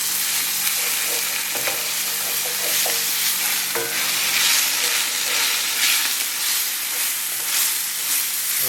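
Sour cream being stirred into a Dijon mustard sauce in a pan, a steady soft scraping and swishing with a faint sizzle throughout, close and continuous, with a few light utensil clinks.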